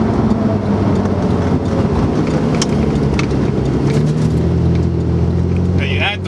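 A 2008 Porsche 997 911 Turbo accelerating under throttle, heard as a loud, steady in-cabin roar with a slowly rising engine tone and a voice briefly present.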